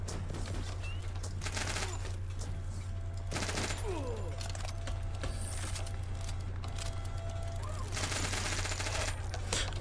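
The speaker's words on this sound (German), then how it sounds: "Wo schießt denn der?" Gunfire in the video game 41 Hours, dense rapid bursts clustered around a few moments over a constant low electronic hum, with steady game ambience throughout.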